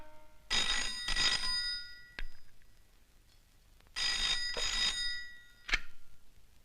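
An old landline telephone bell rings loud and close in two double bursts, each pair followed by a short clack and a pause, with no voices.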